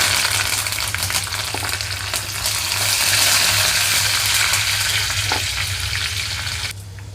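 Steady, loud sizzling of crushed garlic, curry leaves and dried red chillies frying in hot oil, continuous crackle throughout with a low hum underneath.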